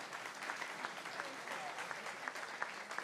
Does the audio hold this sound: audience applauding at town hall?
yes